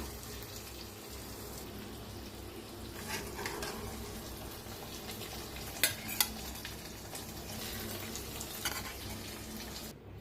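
Stuffed ridge gourd being stirred in an oily pan, a steady soft sizzle with spoon scrapes and a couple of sharper clinks near the middle, no voices.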